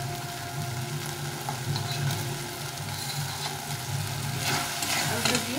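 Fried potato pieces stirred into a fish curry spice masala in hot oil, a steady close sizzle with scraping stir sounds throughout, a low hum underneath.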